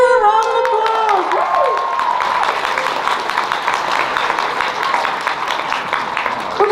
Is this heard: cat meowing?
no